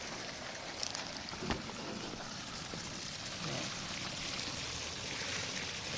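Water gushes steadily from the outlet of a solar-powered pump into the open air, a continuous broadband splashing rush with some wind noise, even in level throughout.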